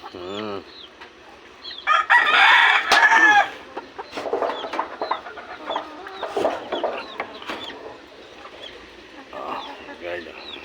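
Chickens and chicks in a backyard, with a rooster crowing loudly near the start and hens clucking steadily afterward, while a voice talks faintly in the background.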